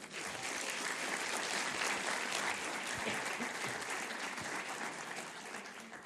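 A church congregation gives a strong round of applause during a Spanish-language sermon, a faint but continuous, even roar of many hands clapping together.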